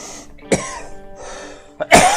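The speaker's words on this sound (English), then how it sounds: "I can't quit coughing tonight." Two or three sharp, close coughs with a rough throat-clearing quality, spaced apart by brief pauses.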